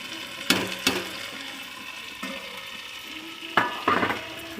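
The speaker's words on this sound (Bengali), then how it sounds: "এই যে ভালো করে মিক্স করে নেব।" Fried fish is stirred into a pan of chorchori, with a few sharp spoon scrapes and clatters against the pan over a soft, continuous low sizzle.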